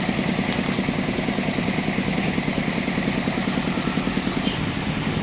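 A soil compactor's small engine runs close by with a steady, rapid throbbing chug that holds an even pace throughout.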